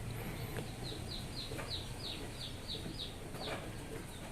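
A Pelung rooster recovering from illness crows faintly at a distance, a series of short, strained calls repeated over a steady background hiss, with no voices.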